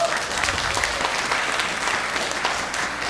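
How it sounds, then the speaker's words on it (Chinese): An audience at a lecture on education technology claps steadily and densely through the whole stretch, loud and close, with no cheering. "是不是给一点掌声啊？"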